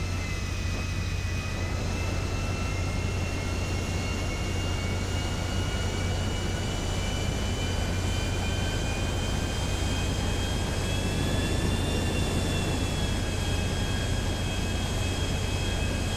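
A jet aircraft engine in the video game GTA 5 Online gives a continuous loud roar and high whine with a steady low rumble underneath, sustained without a break and heard alone.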